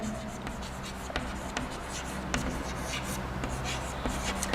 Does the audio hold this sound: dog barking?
no